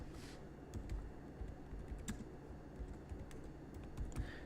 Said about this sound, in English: We just start typing in